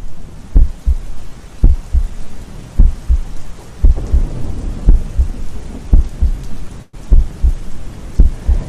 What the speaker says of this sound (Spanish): Yo me acuerdo del sonido de la lluvia.